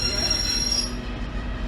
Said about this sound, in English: 142013 Pacer train to Blackburn